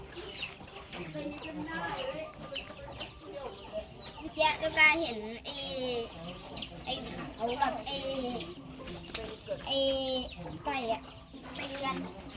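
Farmyard chickens and roosters cluck and squawk in bursts close by, overlapping calls coming in quick irregular clusters, with a person speaking briefly among them.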